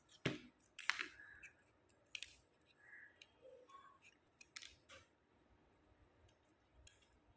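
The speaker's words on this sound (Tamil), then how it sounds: "இப்போ இதை கவர் பண்ணுற மாதிரி கொஞ்சோண்டு வெட்டிக்கோங்க இந்த பேப்பரை." Scissors snip through paper in a few sharp, close cuts with scattered crisp rustles and small clicks between them, fairly quiet overall.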